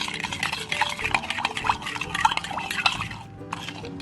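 Spoon stirring cornflour mixed with liquid in a bowl for orange jelly, a steady close wet scraping and sloshing with small clinks running throughout, without talk.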